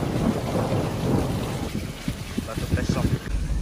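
Heavy rain hisses close by with rumbling, gusty low noise of thunder, and brief voices break in near the end, on a road in Kalimantan.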